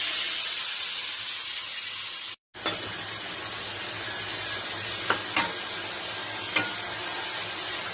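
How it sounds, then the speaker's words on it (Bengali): Small fish coated in salt and turmeric frying in hot oil in a pan, a loud dense sizzle that cuts out briefly and resumes, with a few sharp spits and pops. "তেলটা গরম হয়ে গিয়েছে, প্যানে ছেড়ে দিলাম।"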